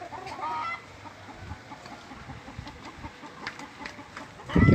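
A hen clucks on a farm while honey is being harvested, her calls repeating in short bursts at moderate distance over background rustling, with a louder thump at the very end.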